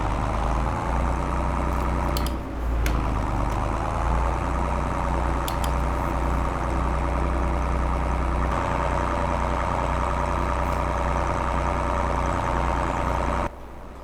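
A John Deere 1630 tractor idles in a farming video game, a steady mid-to-low engine drone that runs at an even level for the whole stretch. A couple of brief dips break it, and it drops sharply at the very end.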